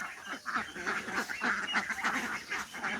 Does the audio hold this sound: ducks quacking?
yes